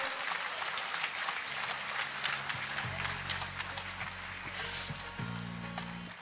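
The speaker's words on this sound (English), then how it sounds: "can we have a huge round of applause to all the volunteers" An audience at a meditation summit in India applauds the volunteers, with a continuous wash of clapping that holds steady and then fades slightly, while a low hum and tonal sounds run underneath.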